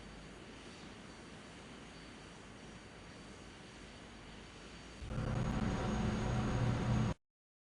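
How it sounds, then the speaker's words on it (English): Airliner jet engines in Flight Simulator X during landing rollout, a steady broadband roar that swells louder and rougher as reverse thrust engages, then cuts off abruptly. "60 knots, disengage reverse thrust"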